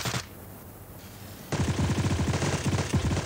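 Gunfire in the video game Sausage Man opens with a short shot, then after a pause a rapid automatic burst of evenly spaced shots rattles on loud and close.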